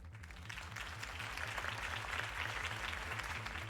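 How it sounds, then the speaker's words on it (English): Crowd applause fills the scene after a campaign speech in Batman: The Telltale Series, a steady, dense clapping sustained throughout over a low rhythmic music bed. "If only Mr. Wayne, my campaign's largest backer, could have heard that applause"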